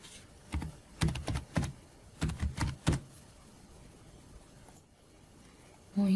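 Keystrokes on a computer keyboard come in quick bursts of several clicks, close and fairly quiet, pausing in between while an email address is entered during account sign-up.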